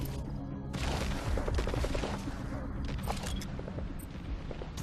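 Sniper rifle shots in the video game Metal Gear Solid V, heard as sharp reports scattered through a dense, loud wash of game noise and rumble lasting the whole stretch.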